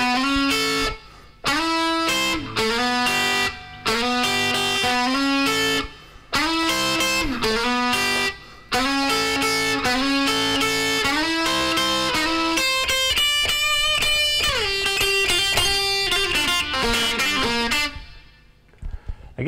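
A driven electric guitar plays the full part from a song, with punchy repeated chord stabs and short gaps giving way to a running lead line near the end, loud, close and alone.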